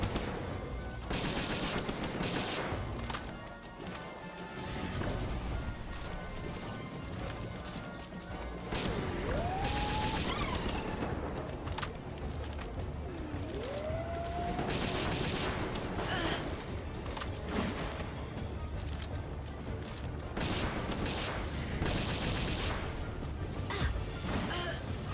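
AK rifle gunfire in a video game, dense rapid bursts of shots and impacts running through most of the stretch at moderate loudness, with brief pauses and game effects in between.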